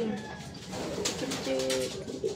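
Pigeons cooing nearby in a loft or yard, soft low repeated coos layered with faint bird calls over steady background noise, brief and moderately quiet.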